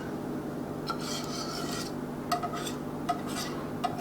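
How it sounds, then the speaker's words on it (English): Whisk scraping and rasping through thick, mortar-like polenta in a pot, a steady rough rubbing with a few sharper clinks against the pan, close and alone. "let me get my whisk. Just kind of help this along a little bit"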